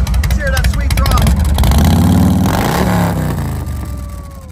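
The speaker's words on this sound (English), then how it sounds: "Oh, we're going to fire it up. Let's hear that sweet throttle." Custom motorcycle engine at a Myrtle Beach bike week event, fired up and revved with the throttle, a loud rising engine roar close by, with people talking over it.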